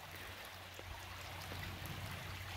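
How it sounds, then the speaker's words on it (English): A sizeable creek flowing steadily, a soft continuous rush of water with a low murmur underneath, faint and distant and heard alone. "It's a nice sized creek."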